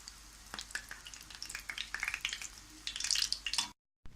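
Potato-stuffed bread rolls deep frying in oil, a busy crackling sizzle with bright popping bursts that grows denser toward the end before cutting out abruptly, no voices.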